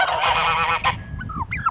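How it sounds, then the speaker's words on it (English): Geese honk loudly and close by in a dense, overlapping burst, broken off after about a second by a few thinner, scattered calls. "Turkey and geese all together."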